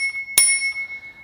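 A single bright ding from the handlebar bell of an Inmotion L9 electric scooter rings out close and loud, then its metallic tone fades away slowly.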